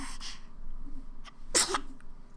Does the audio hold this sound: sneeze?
yes